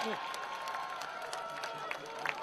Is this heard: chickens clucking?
no